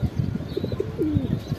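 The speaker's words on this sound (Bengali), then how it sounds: "আমাদের বাসার অনেক সুন্দর একজোড়া শাহজাহানপুরি কবুতর এগুলা" A pair of Shahjahanpuri pigeons kept at home, cooing softly with a low rolling call and a few faint chirps over a muffled background.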